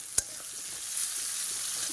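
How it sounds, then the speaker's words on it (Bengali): Potatoes fry lightly in a pan for a fish curry, giving a faint, steady sizzle with a single sharp tick near the start and no voices. "ভেজে আলু দিয়ে দিয়েছি এবার এটা হালকা হালকা ভাজা হবে"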